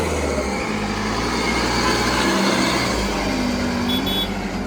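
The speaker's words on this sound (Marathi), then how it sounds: "आवाज बघा गाडीचा" A modified offroad jeep engine at an offroad competition in Karad drones in a deep, steady rumble at close range, with a constant low throb and faint tonal whines layered above it.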